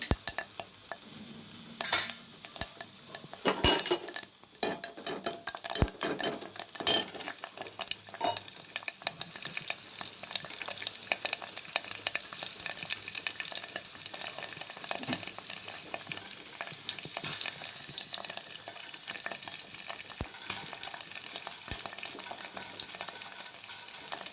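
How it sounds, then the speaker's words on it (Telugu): Tempering spices crackle and sizzle in hot oil, a steady bright hiss with sharp pops near the start, then stirring and occasional clinks of a pan. "ఇదిగోండి తాలింపు వేసేస్తున్నానండి"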